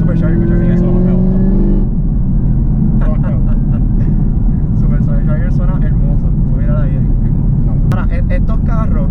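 Supercharged Camaro ZL1 with 800+ horsepower accelerating hard, a loud low engine roar with rising tones at first and then a heavy continuous drone, with voices talking over it.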